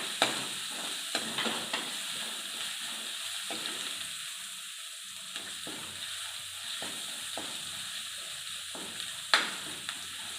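Onion, ginger and garlic fry in a pan while being stirred, a moderate close sizzle with intermittent spoon scrapes and a couple of sharper knocks, without speech.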